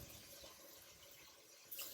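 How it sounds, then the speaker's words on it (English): Water pours from a tap into a big wide pan for cooking biryani rice, a soft, steady splashing stream that is faint and close, with a brief brighter gush near the end. "I'm gonna add some water."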